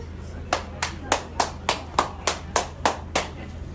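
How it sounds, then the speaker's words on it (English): Applause at a live music venue, Charlton's, arrives as about eleven evenly spaced, crisp claps over a low steady hum, sounding more like slow rhythmic clapping than a dense crowd roar. "Let's give Amanda a nice round of applause."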